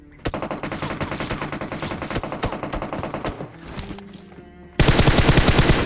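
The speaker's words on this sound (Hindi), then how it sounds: "और बारी थी अब दूसरे बंदों की, जो कि मेरे को इस जगह पे फायर करते हैं।" Enemy machine-gun fire in the PUBG Mobile video game: loud, rapid automatic bursts rattle almost continuously, ease into a quieter lull near the end, then resume in a dense, heavy volley.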